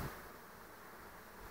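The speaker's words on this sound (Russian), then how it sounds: "После обеда пчелы собираются и вот так вот кучкуются." Bees buzz at an apiary on a hot summer day with sweet clover in bloom, a faint, steady, even drone with no other sounds.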